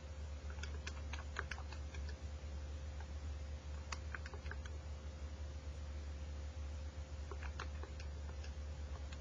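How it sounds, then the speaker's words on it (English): Calculator keys tapped while entering figures for a compound interest problem, a few quick clusters of close, light clicks separated by pauses over a steady background hum. "So I'm going to go ahead and type this in."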